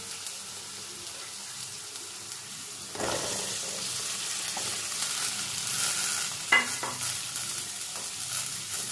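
Potato strips, onion and garlic stirred in a hot pan, a steady close sizzle with scraping spatula strokes growing louder midway and a few sharper clinks near the end.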